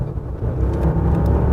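A Mercedes with 450 horsepower accelerates hard, its deep engine roar loud and close, with a steady low rumble building across the short burst and no talk.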